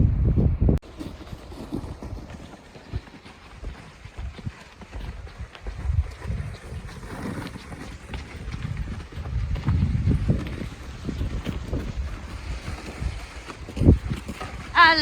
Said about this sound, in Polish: Wieje dzisiaj.